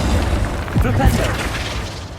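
Flipendo knockback spell in Hogwarts Legacy: a couple of quick booming pops close together, punchy and low, set over continuous game combat rumble.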